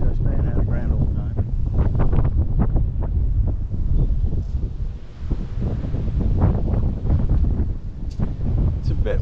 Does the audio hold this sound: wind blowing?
yes